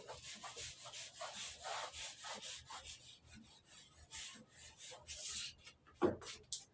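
Writing is rubbed off a board in a classroom, giving soft repeated scrubbing strokes with a few short bumps near the end.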